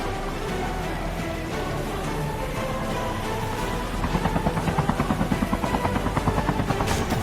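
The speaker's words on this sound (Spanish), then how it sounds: "Justo en el momento en el que me detienen golpeándome con el helicóptero" A video game helicopter whirs steadily and loud, its rotor chop turning into sharp rhythmic pulses partway through as it closes in during a snowboard chase.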